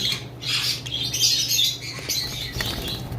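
A group of lutino red-eye pet birds squawks and chatters in shrill, overlapping bursts, close and fairly loud, with no one speaking.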